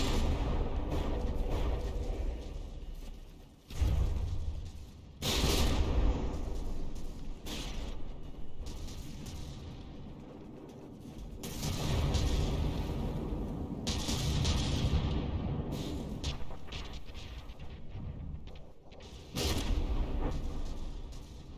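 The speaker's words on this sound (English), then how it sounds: "Just sit back here and watch the ships exchange shells." Battleships trading shell fire in From The Depths: heavy gun blasts and deep booming impacts recur irregularly over a continuous rumbling battle din, with several loud, sharp reports standing out.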